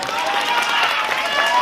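A crowd claps together at a village comedy skit, a brief burst of steady, dense applause close by, with some murmuring voices mixed underneath.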